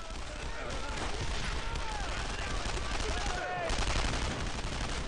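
Gunfire in the World War II shooter Brothers in Arms: Road to Hill 30, dense rattling volleys and bursts of shots layered over a constant battle din, with someone talking over it.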